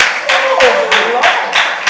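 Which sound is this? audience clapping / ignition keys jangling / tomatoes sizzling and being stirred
audience clapping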